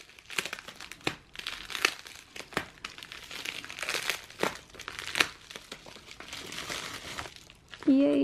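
A K-pop photocard package is torn open and its plastic wrapping crinkled up close, a series of sharp rips and rustles, with a brief squeak near the end.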